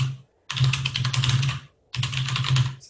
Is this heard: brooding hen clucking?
no